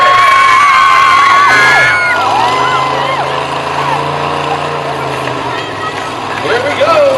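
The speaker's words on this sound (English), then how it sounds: "Cheer on your favorite." A crowd cheers and shouts at an agricultural fair truck demolition event, with whoops and children's voices over a low rumbling engine and an announcer talking loudly throughout.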